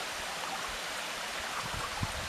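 A stream of water flowing steadily at a drinking water source, a continuous broadband rush with faint gurgles, moderately close and without voices.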